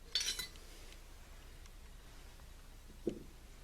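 Metal parts of a T-90 transmission clink during removal of the main gear: a short bright metallic jingle at the start and a duller clunk near the end, quiet and without talk.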